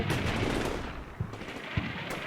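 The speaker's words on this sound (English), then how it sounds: "you can hear that bunker opening with a PKM" A PKM machine gun fires from a bunker in the wargame CMSF2 during a mortar barrage, with dense continuous gunfire and rumble filling the clip and a few sharper distant cracks standing out.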